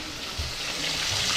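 A steady, close sizzle of dalag (snakehead fish) frying in hot oil, crackling continuously with a few soft bumps, no voices.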